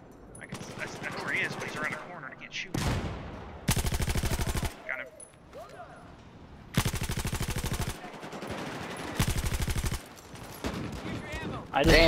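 Shooter video game gunfire: several loud automatic bursts of about a second each, separated by quieter gameplay noise and talk.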